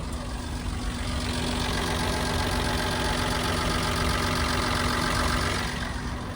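A diesel van engine runs continuously while driving, a loud, steady drone with a low hum that stays unbroken and close throughout.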